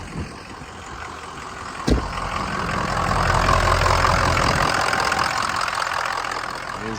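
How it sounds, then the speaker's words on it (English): A 2003 Ford Excursion with the 6.0 turbo diesel idles with a loud, steady knocking clatter; a sharp click comes early, then the engine note swells slightly and holds. "Engine sounds"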